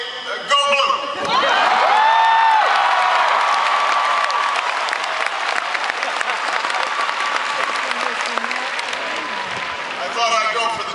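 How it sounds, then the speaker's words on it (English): A large audience at the University of Michigan stadium bursts into loud, sustained applause with cheering and whoops, which holds steady for most of the stretch and tapers near the end. "I thought I'd go for the cheap applause line to start this off."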